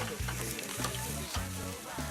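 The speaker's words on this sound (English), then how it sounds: "I can hear that sizzling, that searing" Steady sizzling of seafood searing in a hot pan, continuous crackle with a low hum underneath, close and moderately loud.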